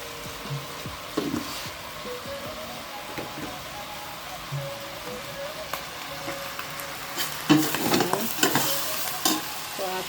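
Meat being stirred with salt in a pan for Filipino kare-kare, a steady close sizzle with scraping and clattering spoon strokes that grow busier toward the end.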